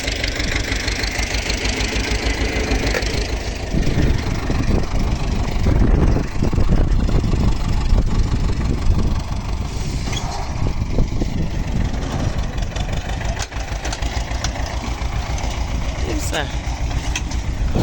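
A T-25 tractor engine runs steadily and loudly while planting potatoes, its continuous mid-pitched rumble carrying a knocking, idling character throughout with no pauses.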